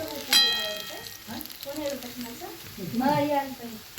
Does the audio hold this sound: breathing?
no